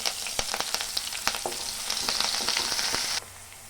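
Chopped onion, green chillies and curry leaves sizzle in hot oil for a sweet potato fry, a steady close crackle broken by sharp pops and spatters, then dropping to a quieter hiss near the end.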